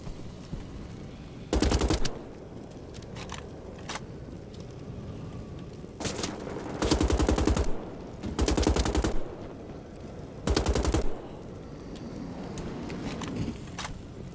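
Gunfire in the Wolfenstein: The Old Blood video game: loud automatic bursts, each lasting about a second, come in separate volleys over a steady background, with no speech.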